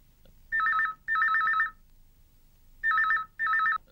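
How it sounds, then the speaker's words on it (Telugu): A telephone rings unanswered in two double-ring bursts separated by a pause, each ring a bright warbling trill, clear and close in an otherwise quiet room. "రింగ్ అవుతూనే ఉంది, ఎవరు ఎత్తడం లేదే."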